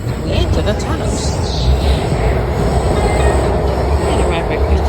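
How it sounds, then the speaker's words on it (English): A Washington Metro train rumbles loudly as it heads into a tunnel near Crystal City, with heavy low roar, rattling wheels and faint high squeals from the rails, continuous and close for the whole stretch. "We enter the tunnels."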